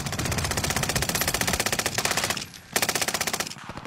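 Rapid automatic gunfire from Call of Duty: Warzone 2.0 rattles in fast, steady bursts, broken by one brief pause before the shooting resumes, loud and dominant with no voices.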